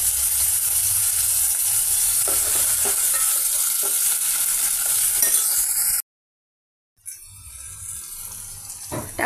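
Tomato pieces frying in a pan with ginger and chilli for an arvi (colocasia) curry, a steady close sizzle with light stirring scrapes, cutting out briefly before resuming.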